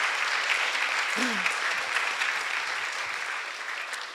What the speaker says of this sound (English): You guys can give a clap for your group leaders.